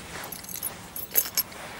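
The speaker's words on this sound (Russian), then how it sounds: "На тебе ключи твои." A bunch of keys jangles a few times in quick, light metallic clinks, close by and fairly quiet, with no talking over them.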